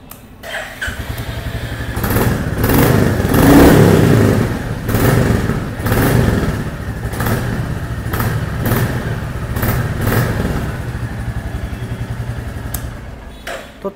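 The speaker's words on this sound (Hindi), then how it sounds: "तो मैं आपको एक बार इस बाइक का एग्जॉस्ट नोट सुना देता हूँ।" A Royal Enfield Bullet 350 motorcycle, the new standard model, starts up and settles into its thumping single-cylinder exhaust note, with several sharp throttle blips standing out over the steady idle, close and loud with no talking.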